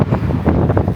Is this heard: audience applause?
no